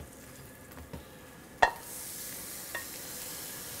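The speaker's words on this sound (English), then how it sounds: "we're gonna slowly saute our garlic" Garlic and peas sautéing gently in bacon fat for lobster carbonara, a soft continuous sizzle with a sharp clack of a utensil midway and a lighter tap near the end.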